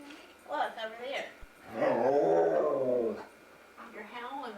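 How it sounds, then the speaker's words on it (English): A dog howls and whimpers indoors in a long rising-and-falling wail, preceded and followed by shorter whining cries, close and fairly loud, with a person talking around it. "You're howling a lot."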